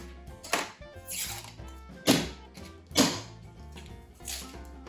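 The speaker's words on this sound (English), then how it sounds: "If you're not beating your biscuit cans on the cabinet, you're not doing it right." A canned biscuit dough tube being beaten against a kitchen cabinet edge to pop it open, three or four sharp hollow knocks at irregular intervals over quiet background, close and moderately loud.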